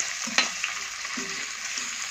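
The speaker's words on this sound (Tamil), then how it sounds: "அப்புறம் வெங்காயம் போடுறேன், எண்ணெய் காஞ்சிடுச்சு. அது நல்லா கிளறி விடுவோம்." Onions frying in heated oil for a kurma, with a steady broad sizzle under a few scraping stirs of a spoon against the pan, close and moderately loud with no talking.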